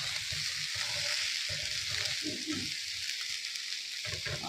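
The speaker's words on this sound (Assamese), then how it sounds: "এতিয়া লগতে বনাইও আছোঁ ফুলকবি ভাজি" Cauliflower fry cooks in a pan with a continuous close sizzle and soft, intermittent stirring sounds underneath.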